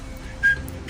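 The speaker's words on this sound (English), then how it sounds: "I'm whistling when I whistle like this" A person whistles from the side of the mouth: one short, thin whistled note that sounds briefly and faintly, with no talking.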